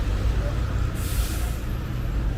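A sharp hiss from the air brake of a VKTR electric TransJakarta city bus releasing over a low rumble, close and brief, with people talking nearby at a crowded stop.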